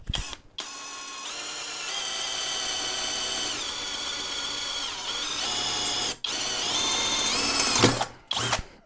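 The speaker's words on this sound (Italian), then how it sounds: "farò due fori da 5 e poi uno di questi lo allargherò a 10" A DEKO 20V cordless drill bores holes, whining loudly and steadily at close range with shifts in pitch as speed changes, briefly stopping and restarting, then ending in short bursts.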